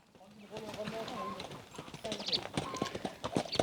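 A light riding horse walks on firm ground, its hooves clip-clopping in an uneven close rhythm while someone talks over them.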